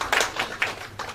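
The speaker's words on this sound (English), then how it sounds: "Applause for him." Applause at an international women's economic empowerment conference, heard as a few sparse, soft hand-claps spaced out over about a second rather than a full ovation.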